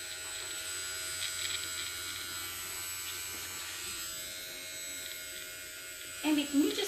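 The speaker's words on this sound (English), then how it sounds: "I'm trimming them. With this trimmer" A BaBylissPRO electric hair trimmer buzzes steadily at low volume as it trims coarse, curly hair, a continuous thin hum throughout with a brief louder burst near the end.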